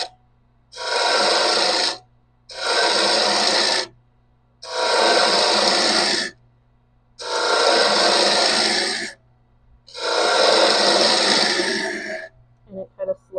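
A hand tool rasps rhythmically along a wooden rolling pin as its end is shaped into a taper, five long, even scraping strokes separated by short pauses, close and loud, followed by a few quick light scrapes.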